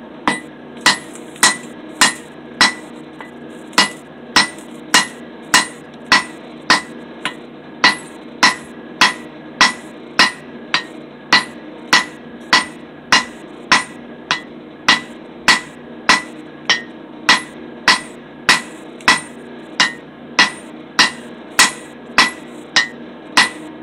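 Steady, evenly spaced hammer blows ring out on an anvil as a cable Damascus billet is forged, around forty sharp metallic strikes in a regular rhythm at close range.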